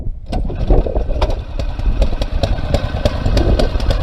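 The small engine of a water pump runs at close range, loud and steady, with a rapid sputtering beat and sharp mechanical clicks over its drone.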